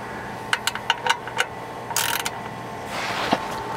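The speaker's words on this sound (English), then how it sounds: "then we can grab our socket wrench, switch it back over to righty tighty" A socket wrench ratchets to snug up a car's oil drain plug, giving a few spaced clicks at close range followed by a short rapid ratcheting burst and a soft scrape.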